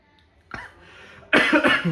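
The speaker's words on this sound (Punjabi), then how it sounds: "ਖਾਂਸੀ ਆ ਗਈ ਯਾਰ ਥੋੜੀ" A man coughs a couple of times up close, loud and abrupt, after a quieter stretch of low background sound.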